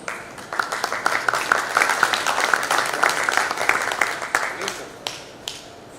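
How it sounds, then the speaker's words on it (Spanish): Audience applause for a speaker introduced at a talk on artificial intelligence for energy-sector problems, a steady patter of many hands at moderate loudness that thins and fades out toward the end. "Recibámosle con un fuerte aplauso."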